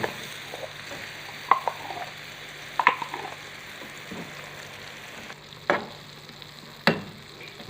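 Fava beans stirred in a frying pan, a low steady sizzle with occasional spoon clinks and scrapes against the metal, close and fairly quiet with no talk.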